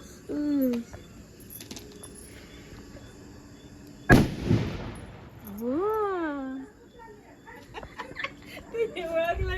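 A sutli bomb firecracker bursts during Diwali celebrations with one sharp, loud bang that rings out and fades, while people talk and call out before and after it.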